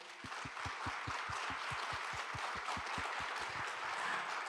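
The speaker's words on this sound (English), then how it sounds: "please give a big round of applause." Audience applause at the close of an ICAO legal seminar, a fairly faint, steady wash of clapping with a regular low thumping beat running through it.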